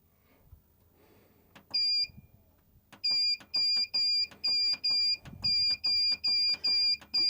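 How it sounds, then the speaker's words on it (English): Renogy inverter charger beeping while being programmed, with two short paired beeps followed by a steady run of evenly spaced loud electronic beeps, all close by. "I'm sorry about the beeping"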